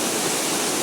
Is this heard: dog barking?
no